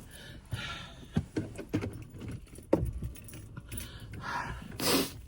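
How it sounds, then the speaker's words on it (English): Keys jingle and clink in several quick bursts close by, followed by the rising rush of a car being started, with no voices. "Gotta turn on the car,"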